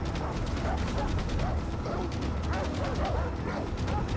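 Dog barking in the video game Far Cry 3, repeated yaps and yips heard under dense game noise and mechanical clatter, fairly close and persistent.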